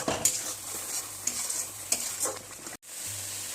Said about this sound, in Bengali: নুন হলুদ দিয়ে আবার ভালো করে মশলাটাকে কষিয়ে নিতে হবে যত সময় মশলাটা তেল ছেড়ে না দেয়